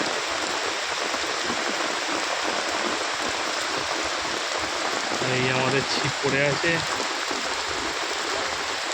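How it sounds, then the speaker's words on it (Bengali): Heavy monsoon rain pours steadily onto Beleghata lake during a fishing trip, a dense, unbroken roar of drops, with someone talking briefly over it. "অঝরে বৃষ্টি পড়ছে।"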